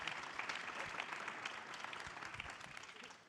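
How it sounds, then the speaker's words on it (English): Audience applause for an all-female panel opening day two of NFT Paris, a steady wash of many hands clapping at moderate distance, sustained and fairly even with no voices. "I hope you can give them a round of applause"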